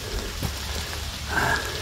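Rain falls during a forest hike, a steady wash of patter on leaves and surfaces at even loudness, alone with no voices over it.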